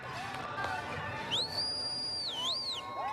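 Sharp, shrill whistling from a spectator cheering at a Texas Class 2A Division II high school football state championship game, rising and falling in long sweeping tones over steady stadium crowd noise.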